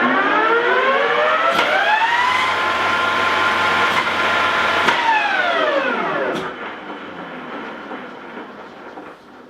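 An Okuma LS lathe spindle spins up to 1800 RPM, a steady rising whine with strong harmonic tones that holds level, then falls in pitch as the brake slows it partway without stopping, loud and close, no talking.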